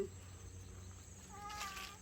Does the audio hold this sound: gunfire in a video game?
no